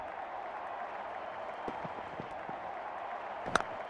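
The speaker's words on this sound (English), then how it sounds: "Crowd going mad here." Stadium crowd at an India vs Australia T20 cricket match in Mohali, a steady wash of cheering and applause filling the whole clip, with a few brief louder bursts near the end.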